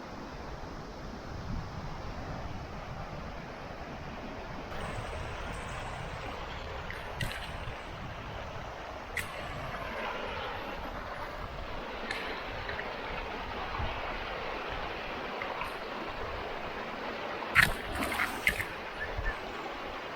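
Rushing river water on the Hardangervidda plateau in Norway, a steady broadband wash holding constant level throughout with faint wind and a few brief clicks near the end, no voices.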